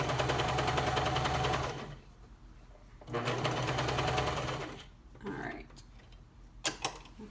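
Serger stitching over an elastic casing on a skirt, two close bursts of rapid mechanical whirring separated by pauses, followed by clicks and handling of fabric, with a brief spoken word.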